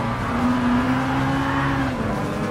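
Race cars such as a Chevy Nova and a Lamborghini Huracan drone past in Gran Turismo Sport, a steady loud engine tone holding pitch then dropping slightly near the end.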